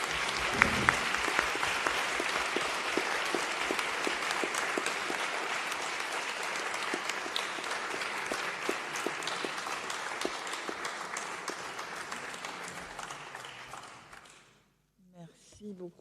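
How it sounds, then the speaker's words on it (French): Prolonged audience applause after a debate, a dense, steady sheet of clapping at moderate distance that holds for several seconds, then gradually thins and dies away near the end, leaving a few scattered claps and quiet. "Je ne sais pas si on applaudit juste votre dernière réponse"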